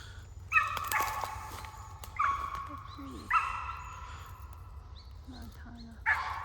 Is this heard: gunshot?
no